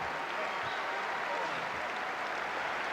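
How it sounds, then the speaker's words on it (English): A basketball arena crowd at an Iowa State vs Iowa college game applauds steadily as an injured player is helped to his feet, a dense, continuous wash of distant clapping and crowd noise with a commentator's voice over it. "this will draw a round of applause"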